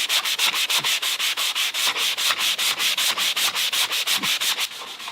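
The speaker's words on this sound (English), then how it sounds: "It's a lot more comfortable to sand like this." Steady back-and-forth hand sanding on walnut, a rhythmic scratchy rasp repeating about four times a second, close and continuous with no talking.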